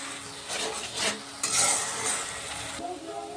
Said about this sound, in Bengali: এক চামচ হলুদ গুঁড়ো ছোটো এক চামচ জিরে গুঁড়ো হাফ চামচ ধনে গুঁড়ো কিছুটা কাশ্মীরি লঙ্কার গুঁড়ো সামান্য জল দিয়ে মশলাটা কষে নেবে